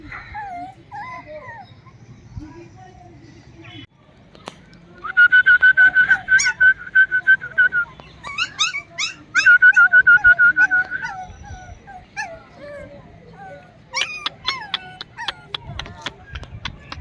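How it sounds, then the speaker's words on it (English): Puppies, among them Beagle, Golden Retriever, Saint Bernard and Spitz pups, whimper and yelp in high, repeated bursts, with short barks and a human voice in the background. "all are ready stock, active and healthy puppy."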